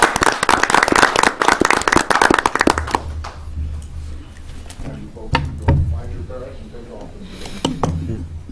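Brisk applause for students at a city council meeting, a dense burst of hand clapping for about three seconds, then dying into a few scattered claps and room murmur.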